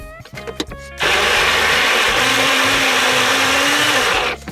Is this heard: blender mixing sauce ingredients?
yes